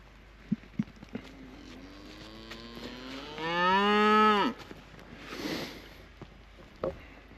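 A cow on a small snowy farm with ten or eleven cattle lets out one long, loud moo lasting about a second, with quieter farmyard sounds around it and no talking.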